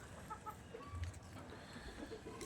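Faint clucking of chickens in a sunny open farmyard in the morning, soft and scattered against quiet background noise.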